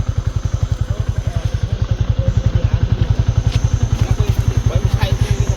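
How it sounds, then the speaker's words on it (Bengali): A motorcycle engine-brakes while descending a hill, its exhaust putting out a loud, close, evenly pulsing throb throughout, with riders' voices occasionally heard over it. "Engine brake."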